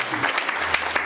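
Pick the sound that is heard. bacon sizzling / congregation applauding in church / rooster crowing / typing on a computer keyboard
congregation applauding in church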